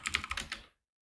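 Quick computer keyboard typing during a Void Linux installation, about eight rapid close key clicks in under a second, then silence.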